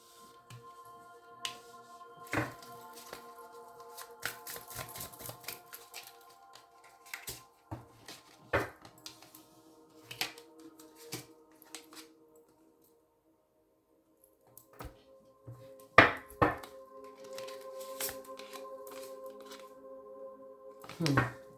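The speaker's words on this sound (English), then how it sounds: "I'm gonna shuffle these up a little." Tarot cards are shuffled in short, intermittent bursts of riffling and soft card slaps, close and fairly quiet, separated by pauses and light handling noises.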